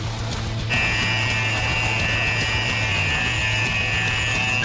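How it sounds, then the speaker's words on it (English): An H2S hydrogen sulfide gas alarm on an oil rig sounds as a loud, steady electronic tone that switches on after a brief moment and holds over a constant low machinery hum. "That alarm is the last thing you want to hear on an oil rig."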